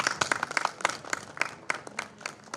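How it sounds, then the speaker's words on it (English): Scattered applause from a small audience at a national conference of radiographers and technologists, welcoming a department head to the stage; sparse, uneven claps rather than a dense ovation. "A huge round of applause for ma'am"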